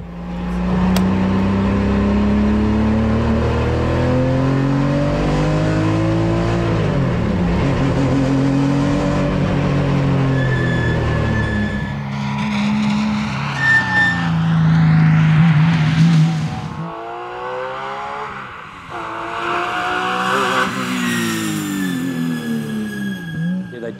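A Porsche 996 Cup race car engine on a track, revving hard and shifting gears at close range, loud and sustained, with rising and falling pitch as it accelerates.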